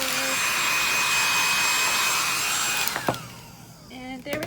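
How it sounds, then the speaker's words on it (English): A hair dryer blows with a steady whirring roar and high whine, clearing flakes off a carved linoleum block, then switches off, leaving faint handling noises. "I'm actually just gonna blow a little bit of the flakes off of the hair dryer"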